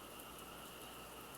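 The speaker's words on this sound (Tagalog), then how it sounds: "Lakas pa rin ng ulan." Heavy rain falls steadily outside a dorm in Taiwan during a typhoon, a dense, even hiss of drops on surfaces with no break or voice.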